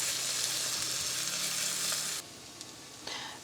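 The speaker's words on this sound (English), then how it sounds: "2 cloves of garlic in with our onions." Garlic cloves frying with onions in butter in a pan inside a camper, a loud steady close sizzle that drops sharply quieter partway through with small crackles after.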